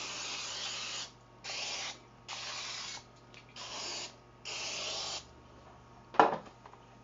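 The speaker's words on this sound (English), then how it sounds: "Spray a 9x13 pan." Cooking spray hisses into a 9x13 baking pan in a kitchen, five separate close bursts of roughly a second each with short pauses between, followed by a brief clatter.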